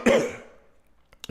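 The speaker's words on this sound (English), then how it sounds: "Sorry, I got a little cough there." A man on a boxing talk show gives one sharp, close cough that trails off into quiet, followed by a brief throat-clearing noise at the end.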